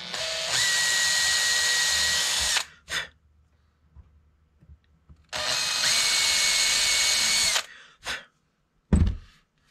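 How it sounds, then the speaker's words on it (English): A power drill bores into a guitar headstock to fit a Waverly tuner, running in two sustained bursts of about two seconds each with brief clicks and knocks between them. "I could just drill this one right in with the tuner in place."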